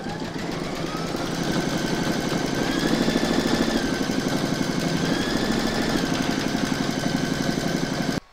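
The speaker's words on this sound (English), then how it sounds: "Pop your hoop back into your machine and stitch round number seven." An embroidery machine stitching a sloth applique in the hoop, a loud, steady, rapid mechanical chatter with a whirring hum that runs continuously before stopping abruptly at the end.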